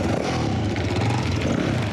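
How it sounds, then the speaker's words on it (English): Several motorbikes rev together in a steady, loud, dense engine roar at a family home during a lifestyle show, continuous throughout with no voices. "the roar of bikes fills the air at the Marshalls"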